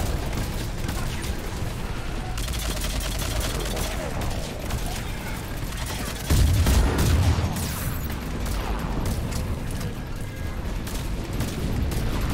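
Rapid, dense bursts of Mass Effect 3 video game gunfire crackle almost nonstop, with heavier booms mixed in and a voice talking faintly underneath.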